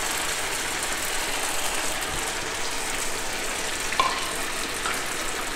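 Vegetable spring rolls frying in a large kadhai of hot oil over a low flame, a steady dense sizzle that holds at an even level throughout, close and loud with a small clink near the end.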